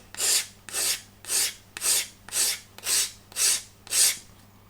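Hand file cutting a chamfer along a wooden part of an HM Sherbourne ship model kit, eight even rasping strokes at a steady rhythm, close and clear with no talk.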